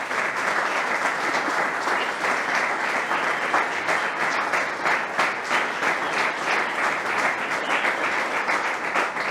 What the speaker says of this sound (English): Everybody's clapping his hands.